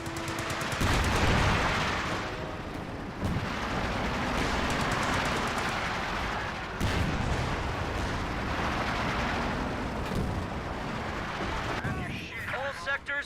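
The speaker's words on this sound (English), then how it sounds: "Infantry, get them with the MG." Company of Heroes 2 battle with rattling machine gun fire and explosive booms rolling through a dense, continuous din of combat, while a commentator talks over the action.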